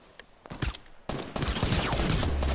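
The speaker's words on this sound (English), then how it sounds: "He's shooting at you." Fortnite gunfire crackles in bursts, a few scattered shots followed by a sharp onset of sustained, dense rapid fire that stays loud to the end.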